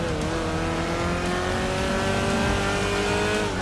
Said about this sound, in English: We can now put our foot down, listen to that engine roar.